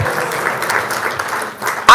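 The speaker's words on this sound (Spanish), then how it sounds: "Un aplauso para los actores." A church audience applauds the actors, a dense, fairly loud patter of clapping from a crowd that fades briefly before a sharp voice or tone cuts in at the end.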